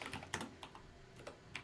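Typing on a computer keyboard while entering a Minecraft Java Edition command, several quiet, quick clicking keystrokes in small irregular bursts, close and alone.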